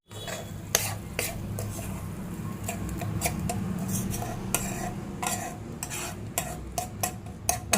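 Fried masala being stirred into mashed potatoes for vada pav, a spoon repeatedly clanking and scraping against a metal pot in irregular close knocks over a soft low background, no voices.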